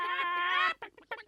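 Voiced cartoon hens squawk near and loud, one long drawn-out squawk followed by a few short, choppy clucks.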